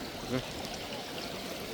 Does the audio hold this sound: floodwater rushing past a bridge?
yes